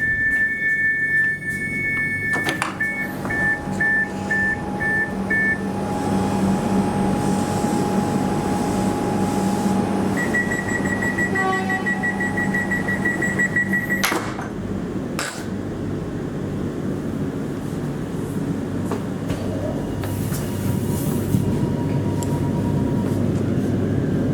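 Inside a Melbourne HCMT suburban train running toward Dandenong: steady rolling rumble and hum of the carriage with tonal electric motor whines rising and falling, occasional squeals and jolts, no talk.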